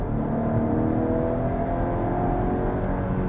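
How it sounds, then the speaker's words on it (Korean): A 2024 Volvo S90 B6 AWD accelerates hard, its engine note a steady, fairly loud drone with rising tonal whine heard from inside the cabin. "이렇게 주행을 하다가 급하게 가속을 시도하잖아요"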